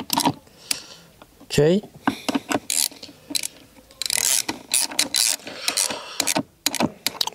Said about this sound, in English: So now it's time to close, to tight up the screw, the nuts.